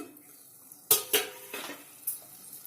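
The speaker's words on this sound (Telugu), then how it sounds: "మూత పెట్టి ఇలా ఒక ఐదు నిమిషాలు దాన్ని ఉడకనిద్దామండి" A lid is set onto a pan of French beans curry with tomato and masala, giving a few sharp metallic clanks and clatters close by, with quieter scraping between them and no talk.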